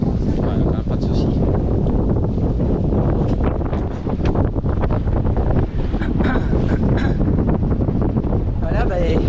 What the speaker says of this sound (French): On est cueilli par un vent d'une vingtaine de nœuds.